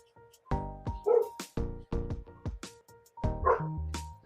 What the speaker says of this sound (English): Sorry about my dogs going crazy.